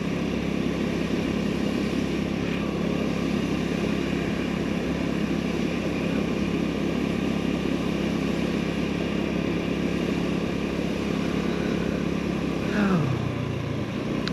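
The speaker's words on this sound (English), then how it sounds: "Have a couple cars coming through as well." Several cars pass on a wooded park road near an overlook, heard from a Honda Navi motorcycle as a steady engine and road rumble, with a passing vehicle's swell and sweep near the end.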